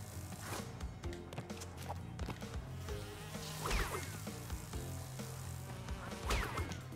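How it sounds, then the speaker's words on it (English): A small bee in a Crash Bandicoot game gives short, repeated buzzing passes, rising and falling as it swoops near, mixed with game music and light stepping sounds. "Wait for the bee."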